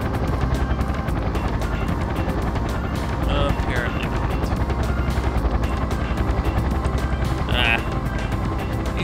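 A helicopter in the Parasite Eve video game gives off a steady, close rotor drone throughout, while people talk over it.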